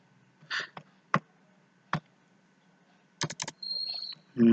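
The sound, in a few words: typing code on a computer keyboard, pressing enter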